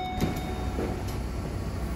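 A Kintetsu local train for Ise-Wakamatsu stands at Suzuka-shi station on the Suzuka Line, giving a faint, steady low hum of idling equipment against quiet platform ambience, with a couple of soft clunks early on.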